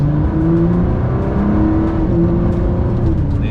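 A Ford GT's engine roars loudly and close on a drive, with rising and falling revs and shifting pitch throughout.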